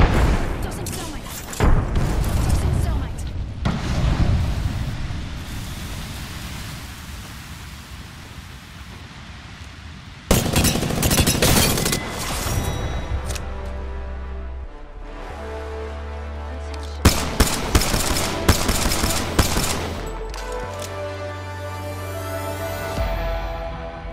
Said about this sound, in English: Tossing a grenade. Tossing thermite.